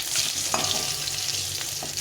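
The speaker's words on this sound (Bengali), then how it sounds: "এইভাবে মাছটাকে আমি ভেজে নিচ্ছি।" Rohu fish sizzles in hot oil in a pan, a steady close hiss of frying with a few soft scrapes of stirring and no talk.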